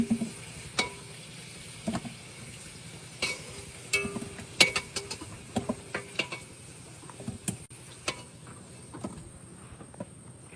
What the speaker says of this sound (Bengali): তেল গরম হয়ে গেছে, এবার আলু দিয়ে দেবো।